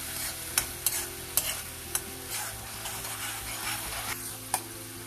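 A spoon stirs spiced potato curry with turmeric and chili powder in a sizzling pan, giving steady scraping and a few sharp taps against the metal over a continuous frying hiss.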